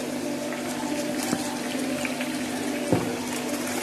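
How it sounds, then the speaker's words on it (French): Blended condiments are poured onto meat in a hot pan and begin to fry, a steady wet sizzle and bubbling hiss with a couple of soft clunks from the pan. "vous allez déverser dans la viande et faire frire quelques instants"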